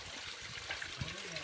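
Water runs down from a tall rock face in a natural outdoor setting, a soft, steady rushing wash heard faint and from a distance without a break.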